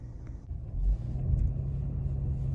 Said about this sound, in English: Now come to a complete stop, and we'll try to get going again.